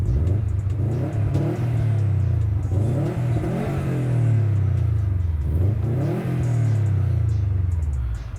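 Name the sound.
2018 Subaru WRX STI engine revving, performance exhaust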